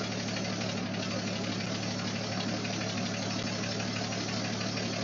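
A 1953 Chevy truck engine runs steadily at idle, a loud, close, continuous rumble with a fast even knocking pulse and no pause from start to finish.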